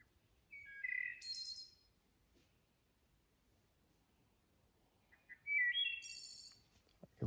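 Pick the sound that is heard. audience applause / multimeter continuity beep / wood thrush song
wood thrush song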